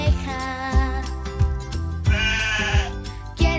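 A sheep bleats loudly and close by, giving several repeated, wavering calls with short pauses between them.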